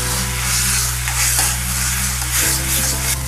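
Tomato sauce and red chilli sauce stirred together in a hot pan give a loud, steady sizzle with scraping spoon strokes, close and continuous under a constant low hum, without any talking.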